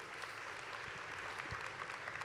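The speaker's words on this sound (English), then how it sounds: "Yes, give him a round of applause." Faint, distant applause from an audience at a Star Wars Celebration Europe panel, an even patter of clapping with no voices over it.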